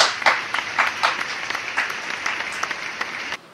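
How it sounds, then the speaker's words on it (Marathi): A live audience at a Marathi comedy performance bursts into applause, a dense, close burst of clapping that goes on steadily and then cuts off abruptly. "टाळ्या."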